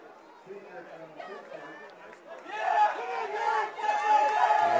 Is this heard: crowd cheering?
yes